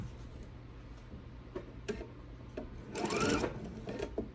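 A sewing machine stitches a Noel tree skirt, a steady close mechanical whir with light ticking that swells louder for a moment near the end, with no talking.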